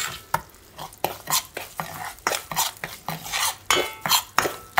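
Mung lentils roasting in ghee for Punjabi panjiri, stirred with a spoon that scrapes and taps the pan in a steady run of sharp strokes over a faint sizzle, close and fairly loud.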